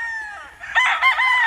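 A rooster crows once at close range on a chicken farm, a loud, strained call that rises and wavers over a quiet background.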